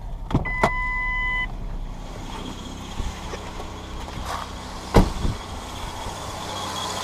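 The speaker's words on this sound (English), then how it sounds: "Her truck is running" A 2005 Ford Escape engine idles steadily nearby with a low, even hum, punctuated by a few sharp clicks and knocks, after a fuel filter install.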